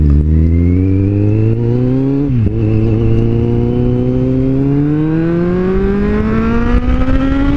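A white Kawasaki Z750 motorcycle engine accelerates loudly and close, its pitch climbing steadily through the gears with a brief dip at a shift, a continuous strong whine without talk.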